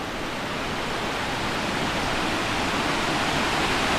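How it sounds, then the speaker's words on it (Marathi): Water from a hidden waterfall rushes along a rocky stream in a steady, dense roar, close and loud, with no voices. "हा आहे वॉटरफॉलचा ओहळ"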